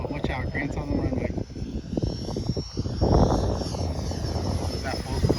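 A remote control model jet on a runway whines with a steady high turbine tone, swelling louder partway through, while several people talk over it outdoors.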